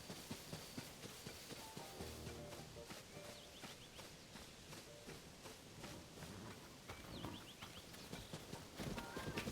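Horse hooves clip-clopping in the video game Zelda Tears of the Kingdom, a fairly quick regular patter of hoofbeats that keeps going under in-game music and effects.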